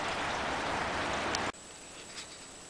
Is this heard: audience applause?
no